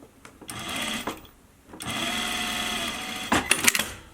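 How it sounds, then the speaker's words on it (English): A sewing machine stitches a half-inch seam on a cloth face mask, with several bursts of rapid mechanical whirring separated by short pauses, close and fairly loud. "We're gonna do this side the same, 1/2 inch, stitch it down."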